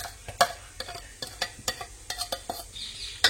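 A spoon stirs fried masala mixed with ground coconut paste in a pan, making irregular scraping clicks and taps over a soft background sizzle, close and fairly quiet.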